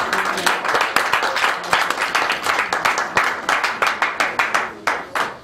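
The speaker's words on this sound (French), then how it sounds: "applaudissez-le comme si c'était mon Dieu" A church congregation claps their hands in sharp, rhythmic unison during a worship service, loud close claps repeating at a steady brisk pace.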